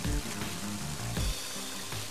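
Steady rain in the Mother 3 video game falls as a constant soft hiss, with a gentle musical tune playing underneath.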